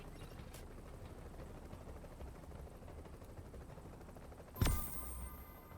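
A video game helicopter during an extraction hums as a low, steady rotor drone, with a sharp loud burst and rushing noise near the end, no voices.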